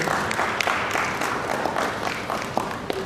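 Audience applause for the panelists at a climate finance and investment summit in Nigeria, a steady wash of many hands clapping that holds at a fairly even level throughout.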